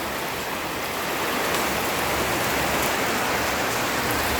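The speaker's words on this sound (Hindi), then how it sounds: "और आज बारिश हो रही, भगवान हमारे भीग रहे हैं, पानी आए हुआ है।" Steady, dense rain pouring onto a tin roof of a house, a constant loud hiss with no pauses and no voices.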